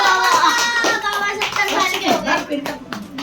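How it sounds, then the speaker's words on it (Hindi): Family members clap by hand at a birthday cake cutting for a father's 69th or 70th birthday, brisk scattered claps close by, mixed with a child's and adults' voices chattering throughout. "ताली बजाओ भाई।"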